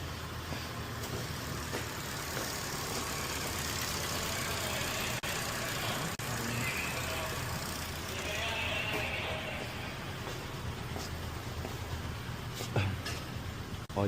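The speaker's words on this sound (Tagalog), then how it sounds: "Check natin yung makina dito kay Nico." A Ford car engine idles steadily and faintly up close, a low continuous hum with light mechanical noise, while people talk quietly nearby.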